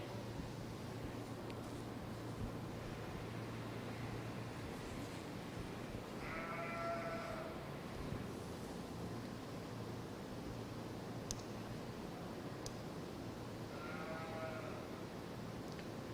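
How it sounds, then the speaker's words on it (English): Two separate sheep bleats at a 4-H sheep and goat show rise over a steady low hum and faint background noise, one midway and another near the end. "just a really neat sheep"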